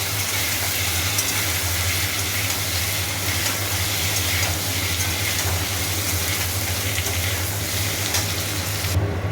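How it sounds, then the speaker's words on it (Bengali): Papaya with ginger paste and salt sautés in a hot pan, giving a dense, continuous loud sizzle and hiss close up with no talk. "পেঁপেগুলো দিয়ে দিয়েছি একটু ভালো করে এটাকে কষিয়ে নেবো"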